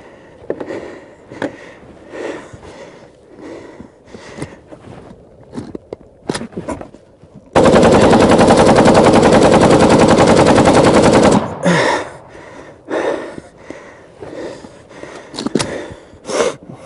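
Kalashnikov rifle on full automatic fires one long, loud sustained burst lasting about four seconds, framed by quieter rustling and movement before and after.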